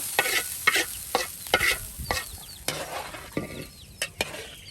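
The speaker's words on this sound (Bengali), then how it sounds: "পেঁয়াজ রসুন দিয়ে বাগার দিয়ে দেওয়া হলো" Onion and garlic sizzle in hot oil in a pan for a tempering, with steady frying crackle broken by repeated stirring scrapes, close and fairly loud.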